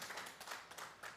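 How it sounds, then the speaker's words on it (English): An audience claps briefly and faintly during a presentation about a free youth and student program, a short burst of scattered applause heard from a distance. "yes, that does deserve applause"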